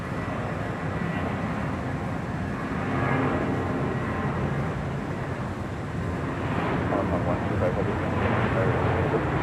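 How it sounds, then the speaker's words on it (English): Air China Boeing 777-300ER in China–France special livery, flight to Shenzhen, at LAX: a steady, broad jet roar carries through the whole stretch, swelling slightly near the middle and end, with voices talking over it. "we do have that Air China special livery, the China France special livery on this 777-300ER"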